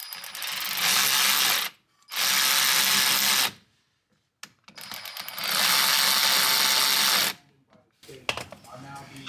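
Ratchet tightening brake caliper bolts onto a caliper mounting bracket during a brake and rotor replacement, in two long bursts of rapid close clicking separated by pauses, with a short final burst.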